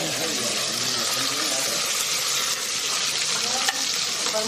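Onions sizzling in a pan with mutton masala, a dense steady hiss of frying with occasional stirring scrapes, close and continuous throughout.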